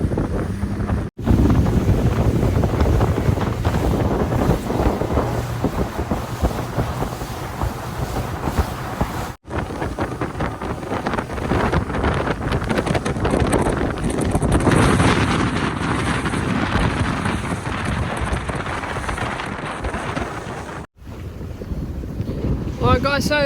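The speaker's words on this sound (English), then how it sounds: "It's much windier than I anticipated and it's been a wet ride out into the bay." Strong wind buffets a boat heading out into a bay, roaring steadily across the microphone with splashing water and hull noise beneath, broken by a few brief drops in level.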